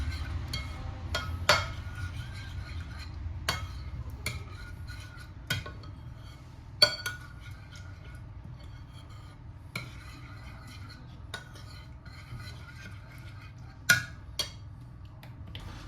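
Pizza sauce being stirred and prepared in a bowl, heard as quiet scattered clinks and taps of a utensil against the bowl over a low background hum, with no talking.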